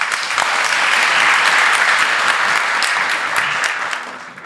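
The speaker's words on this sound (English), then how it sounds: "big round of applause" Applause fills a room at a live agile podcast recording, loud sustained clapping from a crowd that holds steady and then begins to fade toward the end.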